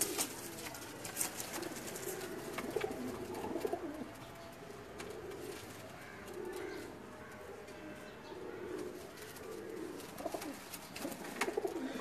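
Rampuri Banka pigeons coo in soft, repeated rolling calls at close range, with a faint low background hum and no talking.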